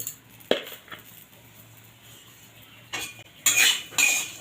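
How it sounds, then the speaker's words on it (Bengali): Utensil scrapes and clinks against a pan as drumsticks are stirred with salt, with a sharp knock early on and a louder burst of scraping near the end, heard alone with no talk. "নুন দিয়ে আবার একটু নেড়ে চেড়ে মিশিয়ে নেবো ভালো করে"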